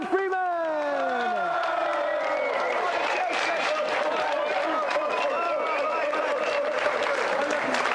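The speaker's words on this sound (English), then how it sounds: "let's have a round of applause for tonight's contestant, Adam Freeman" On a TV games show, the studio audience gives a round of applause for a contestant, with clapping, cheers and whoops. Sweeping tones open the clip and voices carry over the crowd noise.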